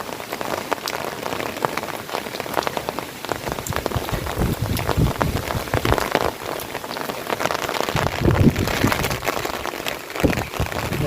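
Heavy monsoon rain pouring down during a downpour in a power outage, a loud dense continuous patter drumming on surfaces nearby, unbroken and with no voices.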